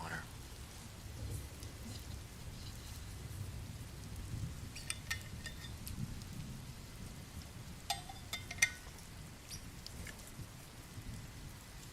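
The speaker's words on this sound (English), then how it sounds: "The rain sound is good?" Steady rain falling outdoors in a continuous low wash with scattered drips and patters, fairly faint and constant throughout, with no voices.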